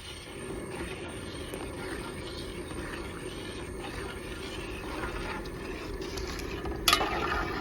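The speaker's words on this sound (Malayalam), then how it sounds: "നല്ലപോലെ ഒന്ന് ഇളക്കി കൊടുക്കുക." Ada pradhaman payasam is stirred in a pot after second-extract coconut milk goes in, giving a steady, moderately loud scraping swish throughout, with one sharp clink near the end.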